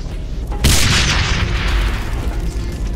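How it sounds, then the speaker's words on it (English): A loud grenade explosion in the combat shooter game Code of Honor 3 bursts in sharply and then rumbles on as a long, heavy roar with no talking. "Grenade!"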